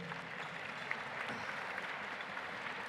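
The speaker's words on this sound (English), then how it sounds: "Please applaud your efforts and thank you for everything that you've done for the school" Faint, distant applause from a gala audience of the American School of Classical Studies, an even wash of many hands clapping with no voices over it.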